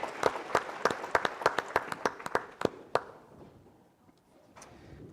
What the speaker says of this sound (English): Let's give them a round of applause, a round of applause.